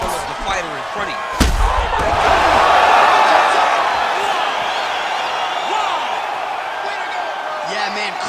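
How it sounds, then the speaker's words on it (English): Crowd at a UFC fight finish cheering and roaring after a sharp impact, a sustained loud swell of noise with whoops, under overlapping commentary voices. "Yeah, man, crowd loving it."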